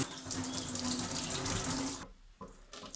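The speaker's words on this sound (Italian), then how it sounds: "Aggiungiamo un po' d'acqua, andiamo a rimuovere meccanicamente e andiamo anche a risciacquare" Tap water runs steadily and loudly while a plastic incubator hatching tray is rinsed in a sink after scrubbing, then cuts off abruptly near the end with a brief splash restarting.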